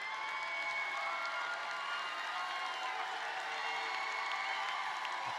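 A graduation ceremony audience of relatives and friends gives steady, dense applause with cheering, a continuous wash of clapping heard from a distance throughout.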